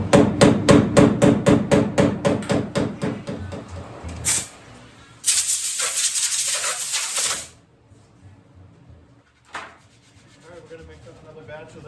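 A hammer taps down high spots in body filler on a dent repair, about a dozen rapid, even metallic knocks, followed by a burst of hissing scraping and a few fainter bumps.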